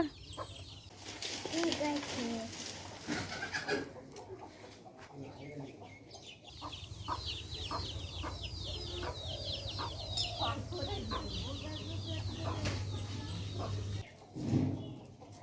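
Chickens and chicks cluck and chirp around a rural home, a busy scatter of small peeps and clucks at moderate distance under a low steady hum, with quiet voices nearby.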